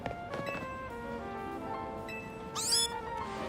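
Meowth, a cat Pokémon, meows in the video game Pokémon Legends Z-A, with a short bright call rising over steady game music and soft background sounds.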